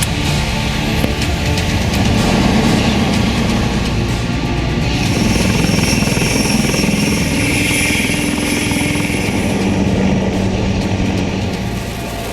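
A HAL Light Combat Helicopter (LCH), an Indian-built attack helicopter, flies in a loud, steady roar of rotor and turbine noise that holds for the full length with no break or voices.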